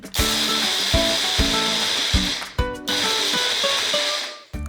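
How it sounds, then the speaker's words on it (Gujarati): A kitchen mixer grinder coarsely grinds chavanu, a fried savoury snack, in repeated loud whirring bursts. Each burst has a sharp start and a rattling hum, and a short pause falls between pulses. "ચવાણાને આપણે મિક્સર ગ્રાઇન્ડર કરી લઈએ"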